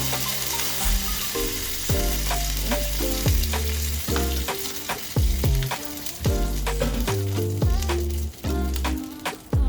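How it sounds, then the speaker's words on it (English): Ground meat sizzles and fries loudly in a pan of pasta sauce for a baked penne-ziti, with steady crackle broken by repeated stirring scrapes and clatter. "So now we're going to put our meat into our pasta sauce."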